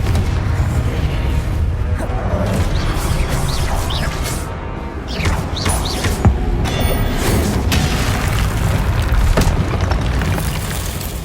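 Confringo fire spell blasts in the Hogwarts Legacy video game, loud repeated booming explosions and crackling bursts layered over continuous combat noise for several seconds.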